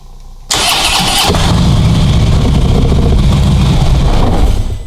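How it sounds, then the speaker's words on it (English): A Harley-Davidson Ultra motorcycle, sitting in neutral, cranks briefly and fires up. It then settles into a steady, loud, close-up idle with a deep rumbling pulse. "Bike starts and runs fine."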